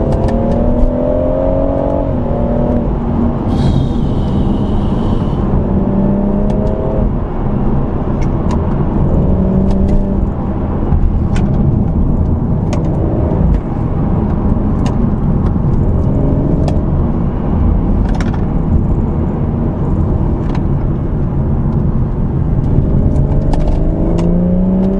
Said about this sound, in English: put the gearbox into sport, whack it into manual, and let's go for a spirited drive